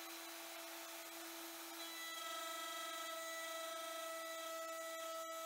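A router cuts new lens pieces for Lewmar portlights, with the workpieces held in clamps. It gives a steady, loud, high-pitched whine that holds its tone for several seconds, close and with no voices.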